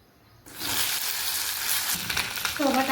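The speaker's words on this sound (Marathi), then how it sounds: "आपण कढईत आता 1 चमचा तेल टाकू आणि भेंडी आधी फ्राय करून घेऊ त्याची" Okra dropped into a spoonful of hot oil in a wok bursts into a loud, close, crackling sizzle that keeps going steadily, with a voice briefly audible at the end.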